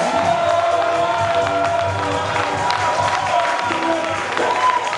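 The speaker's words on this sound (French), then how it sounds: "Est-ce qu'on peut acclamer Jésus?" A church congregation cheers and acclaims in a loud, continuous wash of crowd voices, whoops and scattered clapping, with no break.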